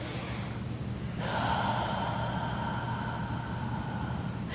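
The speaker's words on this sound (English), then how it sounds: "Take another breath, breathing in." A long, deep inhale during a guided meditation, a steady stream of breathy airflow heard up close with nothing else over it.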